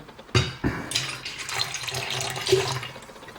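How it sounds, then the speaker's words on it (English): Silver tincture pours into a small copper vessel in splashy bursts, close and moderately loud, with a few sharp knocks of the container at the start. "I'm gonna pour the silver tincture in here."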